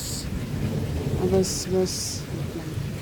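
Heavy rain patters steadily with a low thunder rumble beneath. A voice speaks briefly, and short bright hissing bursts cut in partway through.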